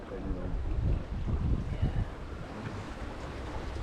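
A cruising sailboat under both sails at sea between 3.5 and 4.5 knots gives a steady roar of wind and rushing water, with gusty buffeting against the microphone.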